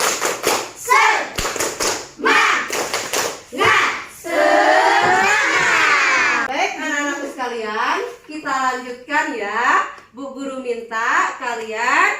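A class of students claps together in a quick rhythmic pattern, then several voices chant and call out loudly in unison.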